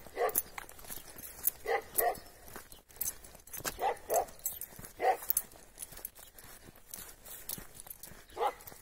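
Dog barking somewhere on a hill above a river valley, heard outdoors as scattered short barks at a moderate distance over wind and footsteps on a walk.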